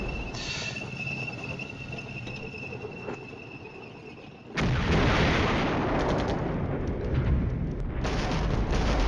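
Artillery barrage in the Flashpoint Campaigns Cold War strategy game: after a quieter stretch of faint chirping ambience, a loud continuous rumble of shelling erupts midway and holds steady to the end.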